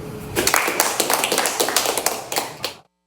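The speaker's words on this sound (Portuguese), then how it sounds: "Aplaudido aí pela cúpula do MDB" MDB party leaders at an event in Teresina clap for a speaker, a small group's close, uneven claps sounding in a steady run before breaking off abruptly.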